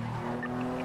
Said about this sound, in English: He's literally in a GTR. The R35.